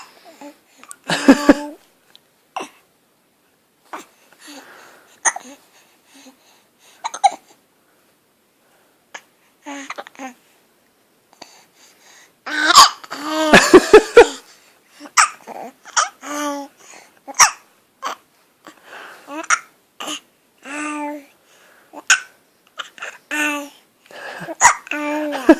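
A baby's sharp little hiccups come one at a time between bursts of babbling and soft laughter, close by, with adults talking at moments.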